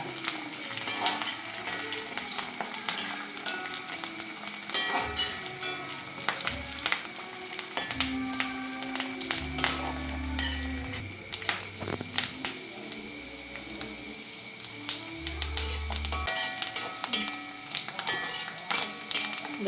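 Steady sizzling and crackling of curry leaves frying in hot oil for lime pickle, with occasional stirring scrapes and light clinks from a pan, close by.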